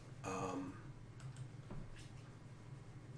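A burst of computer keyboard typing, a few soft, close key clicks spread irregularly over a few seconds in a quiet room, with no speech.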